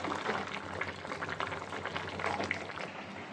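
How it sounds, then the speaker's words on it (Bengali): Fried rui fish simmers in a Bengali onion-stalk fish curry with a soft, steady bubbling, gentle and continuous, and no one speaking. "এবার আমি আগে থাকতে ভেজে রাখা মাছগুলো এতে দিয়ে দিচ্ছি। একটু মাছটা ফুটে যাক।"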